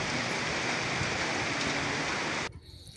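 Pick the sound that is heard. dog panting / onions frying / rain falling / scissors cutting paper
rain falling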